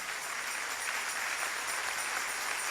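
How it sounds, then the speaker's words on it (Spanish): A congregation applauds during a church service, a continuous, evenly dense wash of clapping with no voices heard over it. "Dele ese aplauso al Rey en esta linda y preciosa oportunidad."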